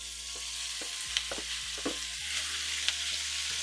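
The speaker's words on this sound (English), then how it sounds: "So our oil is hot. Let's get these sausage in there" Sausage frying in hot avocado oil in a skillet makes a loud, steady sizzle up close, with a few soft knocks and stirring sounds.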